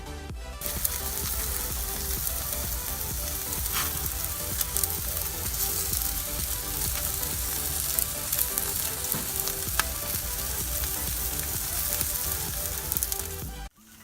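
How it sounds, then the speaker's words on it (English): Steak sears on a flame grill, sizzling and crackling in a steady dense hiss with a few sharper pops, continuous until it cuts off near the end. "Even though the meat looks like it's on fire, it's actually just getting seared, and that's what we call flame broiled."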